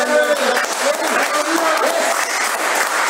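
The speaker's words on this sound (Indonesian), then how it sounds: "Berikan tepuk tangan bagi Allah." A church congregation breaks into sustained applause during a worship service, a continuous wash of many hands clapping with voices calling out over it.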